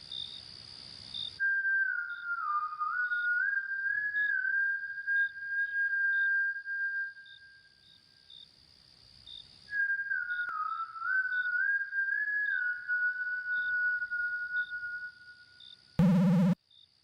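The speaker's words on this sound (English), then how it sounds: "Where did that whistle come from?" A long, steady high whistle holds a wavering pitch for several seconds, stops, then sounds again just as long, over a faint repeating chirp pattern, ending with a sudden loud burst of noise; part of an analog horror series.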